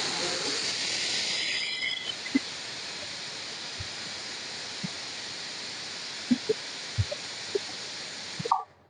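Onions sautéing in a pan for roadside-stall-style sambar give a steady, soft frying hiss that fades out after a few seconds, with a few faint knocks and taps in a quiet kitchen.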